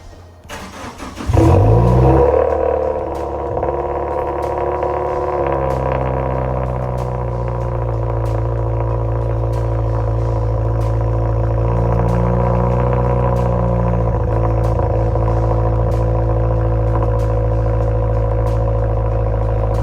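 A Subaru WRX with an ETS Extreme catback exhaust cold starts with a quick starter crank and a loud bark, then settles into a deep, steady high idle with a faint rhythmic ticking over roughly twenty seconds.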